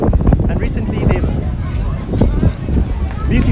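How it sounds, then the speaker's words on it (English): Strong wind buffets the microphone at a seawall on the Atlantic Ocean esplanade in Georgetown, a loud continuous low rumble with gusty swells, and a voice talks over it throughout. "Just being out here at the seawall along the Atlantic Ocean is always windy."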